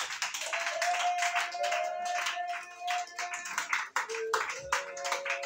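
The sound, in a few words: church congregation clapping to acclaim Jesus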